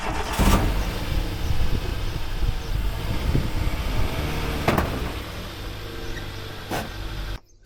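Nissan Micra K11 engine idling and creeping forward onto blocks, a low steady rumble close by with a few knocks and bumps before it cuts off at the end.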